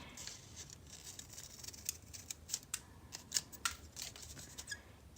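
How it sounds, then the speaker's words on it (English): Sharp scissors cutting through several layers of folded paper, a series of quiet crisp snips and rustles in an irregular rhythm, close up with no talk. "you're going to need a fairly sharp pair of scissors because you're cutting through several layers of paper"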